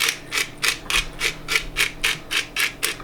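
Fresh pepper ground by hand over koshari rice, a dry scratchy grinding rasp repeating in about ten even pulses, close and clear with no voices.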